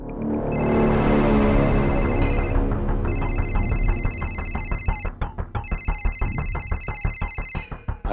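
A telephone rings inside a house, its electronic ringtone repeating in three long bursts over a loud, dense dramatic music score that gives way to sharp rhythmic hits toward the end.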